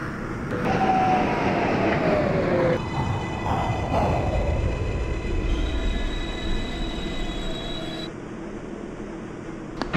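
Manhattan-bound 6 local subway train running from Pelham Bay Park, pulling away from Hunts Point Avenue. A loud, steady rumble of wheels on rails is heard, with squealing wheels and high electric motor whines rising and shifting throughout.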